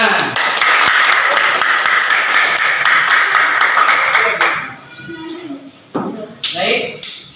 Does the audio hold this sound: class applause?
yes